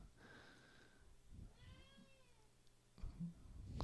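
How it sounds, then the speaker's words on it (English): A cat meows several times in a quiet room, drawn-out calls and a short chirp near the end, a little distant. "do you hear the cat in the background"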